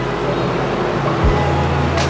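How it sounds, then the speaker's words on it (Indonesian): Loud, constant roar of road traffic, with cars and motorbikes passing right beside a highway and a deep rumble underneath, heard from a roadside studio with no one speaking. "ada suara motor, mobil, klakson, karena ini studioku benar-benar di samping jalan raya guys"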